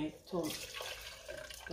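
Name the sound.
pouring liquid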